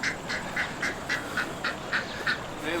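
Ducks quacking in a repeated series of about ten short, evenly spaced calls at moderate distance over steady outdoor background noise, with no talking.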